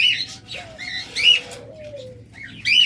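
Pet birds, including white ringneck parrots, chirp and call in bright repeated bursts, with a brief whistled note between them, fairly close in a busy bird-selling setting.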